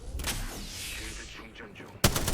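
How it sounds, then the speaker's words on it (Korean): Short bursts of gunfire in the video game Apex Legends, an opening volley followed by a sharper, louder burst near the end, mixed with faint game sounds. "공격받고 있어. 총격받는 중이다."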